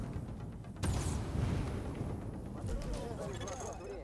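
Grenade explosions in the shooter The Division land as a sudden heavy boom, a rumbling burst and a second blast, over dense, continuous gunfire and game noise.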